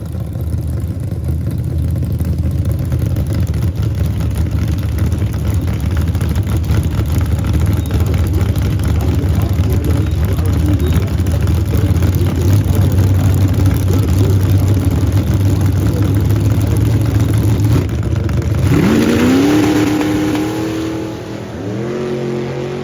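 Nostalgia drag racing car roaring as it launches and pulls hard down the Midstate Dragway strip, a loud, steady engine drone that rises sharply in pitch near the end with no talk.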